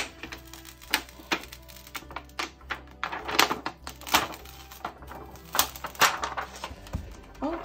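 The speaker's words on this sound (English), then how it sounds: "Now, I have had trouble peeling up this metal HTV in the past." Metal heat transfer vinyl is peeled off a cork trivet, giving irregular close crackles, taps and sharp ticks over several seconds.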